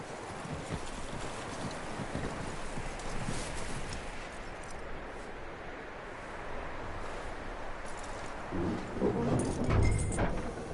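Horse hooves clip-clop steadily in Red Dead Redemption 2, a continuous rhythmic patter over windy outdoor ambience, with a louder thump near the end and no speech.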